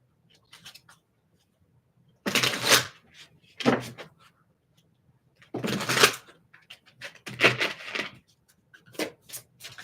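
Playing cards being shuffled by hand, a few short bursts of riffling and snapping separated by quiet pauses, close and crisp with no talk.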